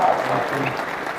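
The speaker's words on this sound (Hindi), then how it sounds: "जोरदार ताली विकास सर के लिए" A brief burst of audience applause for a guest on stage at a direct-selling seminar, a short, full wash of many hands clapping lasting about a second, with some voices mixed in.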